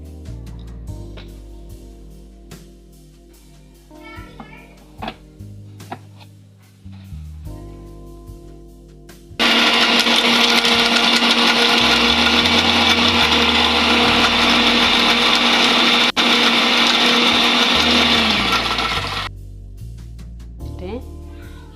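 A mixer grinder whirs loudly for about ten seconds, blending ingredients with a little water into a fine paste, starting and stopping abruptly, with scattered clatter and faint movement before and after.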